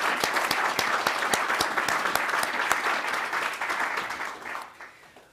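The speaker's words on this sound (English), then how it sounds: "And he certainly deserves a round of applause" Conference audience applauding a senator, dense sustained clapping from a sizable crowd filling the room, holding steady for about five seconds before tapering off at the end.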